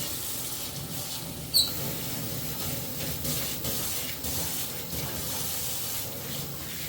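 Tap water runs steadily into a sink while an old sea turtle toy, over seventy years old, is washed down, a continuous hiss with one brief clink near the start.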